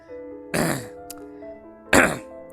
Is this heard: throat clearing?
yes